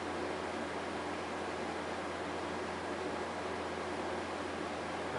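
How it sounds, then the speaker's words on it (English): An air conditioner runs as a steady, even whoosh of broadband noise, soft and unchanging throughout, with no other sounds over it. "so I've got the air conditioner running"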